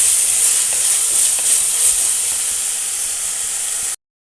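Ingredients sauté in a pan for a spicy fish dish, giving off a loud, steady, close-up hissing sizzle that runs continuously and then cuts off abruptly just before the end.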